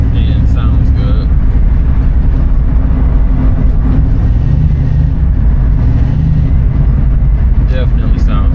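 A cleaned-up 1967 Mustang with a 289 engine drives with a steady low rumble throughout, and a person talks over it the whole time.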